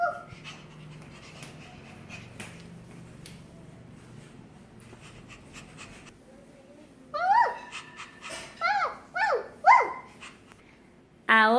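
A child imitates a dog with a run of breathy panting and then several loud, yappy barks, each a short burst with brief pauses between, indoors and close to the listener.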